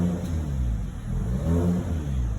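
A GAC car engine in sports mode with the exhaust active, revving close and loud with a deep, throaty rumble that swells and dips in two pulses, alone with no talk.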